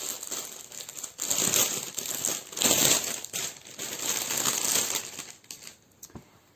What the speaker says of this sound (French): Je m'éloigne pour déballer le plastique